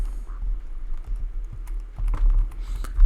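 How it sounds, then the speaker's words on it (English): Fingers type on a computer keyboard, light rapid key clicks in short irregular bursts, close and fairly quiet with a low background hum. "find this WP, delete this text, and type login."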